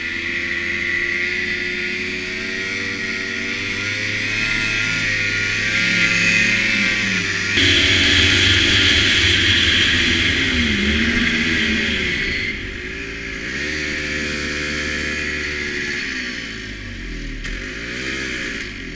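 A Ski-Doo Tundra snowmobile engine running continuously at high, sustained revs with the throttle sticking, its steady roar rising and dipping slightly but never dropping to idle, loud and close with no talk.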